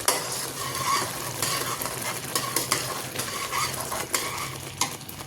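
Tamarind pulp being mixed with ground spice powder for temple-style pulihora, a steady close scraping and stirring in a vessel with soft wet squelches and light clinks, no talk.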